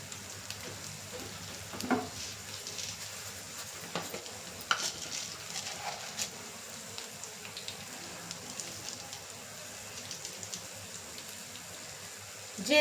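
Fenugreek seeds being dropped into a pan give light, scattered crackles and small clicks over a low, steady sizzle, close by and without speech.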